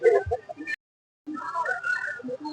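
Chickens and a rooster cluck and squawk up close at a Sunday poultry market in Piler, then a brief silent gap before more clucking and fowl chatter resumes over a busy background.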